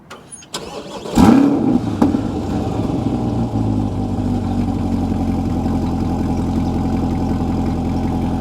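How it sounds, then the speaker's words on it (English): A 2020 Chevrolet Corvette C8 Stingray Z51 starts up: a sharp crank and loud flare of revs, then a brief pop from the exhaust before the engine settles into a steady, deep idle rumble, close and loud. "We did get a little bit of an exhaust crackle out of that startup."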